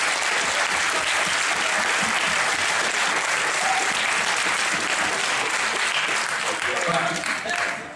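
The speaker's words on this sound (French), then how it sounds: "donc vous pouvez vous applaudir" Sustained applause from a convention audience at a geek show quiz panel, dense steady clapping filling the room for the full length, tapering slightly at the very end.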